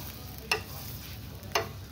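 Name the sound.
roti frying in butter on a pan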